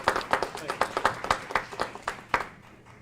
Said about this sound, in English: Let's give him a round of applause, Dr. Sean Joseph.